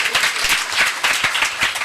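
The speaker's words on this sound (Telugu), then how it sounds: "ఒకసారి చప్పట్లు కొట్టండి ఆ పేరుకి" An audience at a church sermon breaks into applause for the name of Jesus, a dense, loud burst of many hands clapping in a nearby crowd.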